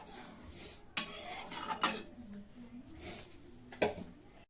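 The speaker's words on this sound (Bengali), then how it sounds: "জল দিয়ে দিচ্ছি। খুব ভালোভাবে নেড়ে নেব।" Fried lentils in a pot are stirred after water is added, with sharp clanks of a utensil against the pot, soft scraping and gentle sizzling between the knocks.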